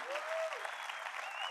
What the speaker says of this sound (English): Give that a huge round of applause for all of you.